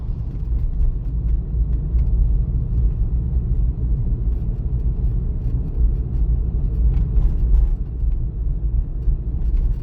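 A car drives straight along route number 4 of a Ukrainian driving exam, its steady low road rumble and engine drone continuous throughout with no talk.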